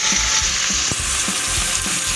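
One kilo of ridge gourd with onion and ginger frying in a pan, a steady loud sizzle throughout with faint scraping and stirring knocks underneath.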